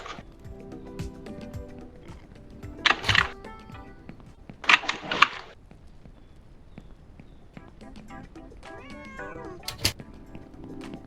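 Cats meow in the farming video game Ranch Simulator, with a few loud, drawn-out cries standing out over game ambience and soft clip-clop of hooves, interspersed with quieter sounds.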